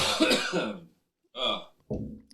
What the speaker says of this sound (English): Sorry about the cough there.